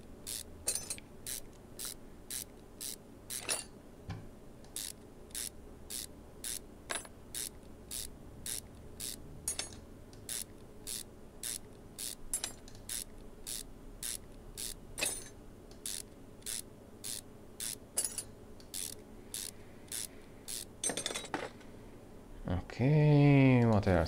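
Rapid ratchet clicks from a wrench unscrewing rusty bolts in the video game Car Mechanic Simulator 2021, sounding as a long steady series of sharp repeated bursts, ending with a louder whooshing mechanical sound.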